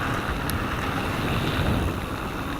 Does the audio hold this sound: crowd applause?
no